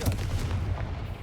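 A Confringo fire spell blast in the Hogwarts Legacy video game, a loud, rumbling burst of explosive noise that holds steady for about a second with no voices.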